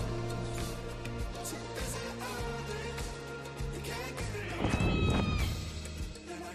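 A shrill, pterodactyl-like creature screech rises from the Tales from the Borderlands video game over steady background music, sounding once about two-thirds of the way through amid a desert setting.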